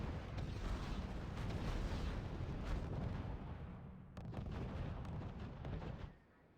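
T-26 tanks fire on Panzer IVs in the WWII strategy game RUSE, a dense, continuous rumble of artillery-like cannon blasts and explosions that rolls on for several seconds before dropping off abruptly near the end.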